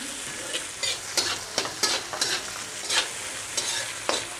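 Chopped beans fry in plenty of white oil for mixed fried rice, a steady sizzle broken by a regular series of sharp spatula scrapes and stirs, close and fairly loud.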